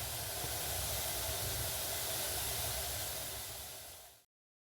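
Potatoes for a Kerala-style mezhukkupuratti stir-fry cook in oil over a medium flame, a dense, even frying hiss that holds steady, then fades and cuts out near the end.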